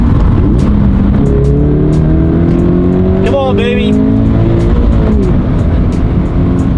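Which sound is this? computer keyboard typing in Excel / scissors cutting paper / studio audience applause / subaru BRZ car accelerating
subaru BRZ car accelerating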